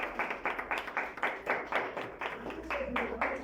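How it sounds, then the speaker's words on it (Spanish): A church congregation claps along in a steady rhythmic beat during a Spanish-language worship service, the claps close and fairly loud with a low hum underneath. "¿Cuántos le dan un aplauso al Señor Jesucristo?"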